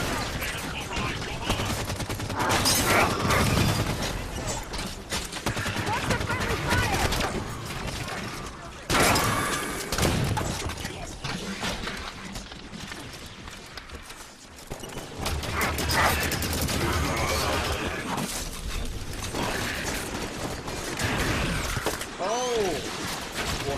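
Gunfire in the Halo 5: Guardians campaign, dense bursts of automatic weapon fire and explosions running almost nonstop over the whole stretch, with a player talking over the action.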